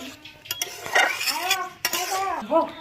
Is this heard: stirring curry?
yes